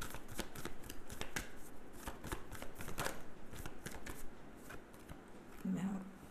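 Tarot cards being shuffled by hand, a steady rapid riffling and flicking that runs through the whole stretch at close range with no talk.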